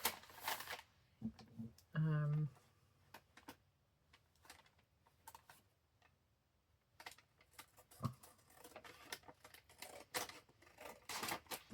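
Paper is cut for a craft envelope pocket, giving scattered crisp snips and rustles, close up, between and under a person talking, with a short electronic tone early on.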